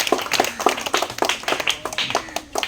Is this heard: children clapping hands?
yes